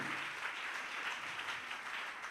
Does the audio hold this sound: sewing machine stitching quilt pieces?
no